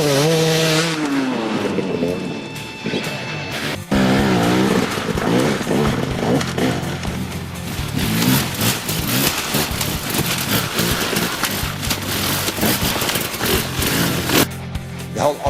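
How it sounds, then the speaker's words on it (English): Enduro motorcycle engine revs hard as the rider drives the rear tire for traction and accelerates out of a dirt berm, loud and close with rising pitch sweeps and continuous throttle bursts, plus a brief drop in engine note partway through. "getting the back tire into full traction mode and accelerating out"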